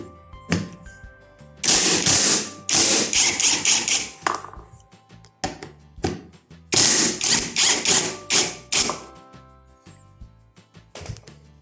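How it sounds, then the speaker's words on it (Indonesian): Impact wrench loosening a pair of 10 mm bolts on a Yamaha Nmax rear fender, two loud rattling bursts of rapid hammering, each a few seconds long, separated by a pause, close up with no talk. "Kita langsung buka saja. Admin buka menggunakan impact."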